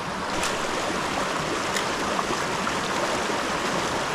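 Rushing stream water and a small waterfall on the Occoquan River make a steady, broadband wash that stays close and even throughout, with no talking.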